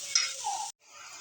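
Sliced onions fry in oil with a bright, steady sizzle and light stirring that cuts off abruptly, then resumes as a softer hiss.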